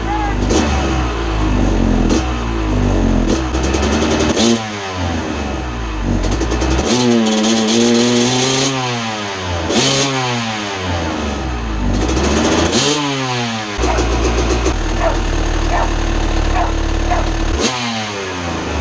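A two-stroke motorcycle with a swapped engine is kicked over, catches and runs rich, blipping its throttle in repeated rising and falling revs, loud and close throughout.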